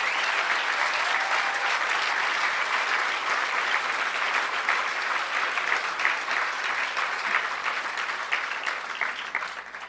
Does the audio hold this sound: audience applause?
yes